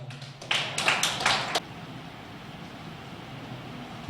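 A short burst of audience clapping at a Tamil astrology lecture, welcoming the speaker. It rises for about a second, then cuts off into a quiet room.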